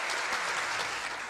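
Audience applause at a televised award ceremony honoring people who spread Chinese culture, a dense, even burst of many hands clapping that fills the short moment without any voices.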